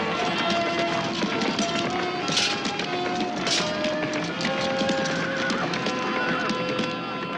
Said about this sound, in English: He spurred his horse and charged headlong into the midst of his enemies.